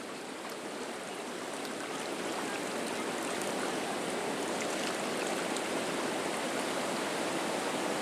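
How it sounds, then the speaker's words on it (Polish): Waterfall on the Nysa Kłodzka river swollen after heavy rain, at the head of the Młynówka mill channel, a loud, steady broadband rush of churning water with no breaks throughout. "Teraz przybliżam wodospad, tą część, skąd bierze początek kanał Młynówki."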